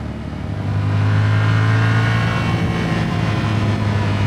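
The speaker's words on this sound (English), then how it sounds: "It has so much juice, this engine, and I'm not really riding it hard even." Yamaha CP2 motorcycle engine pulls hard while riding, a loud steady mid-pitched drone with a strong low hum that swells after the first second and holds near and continuous.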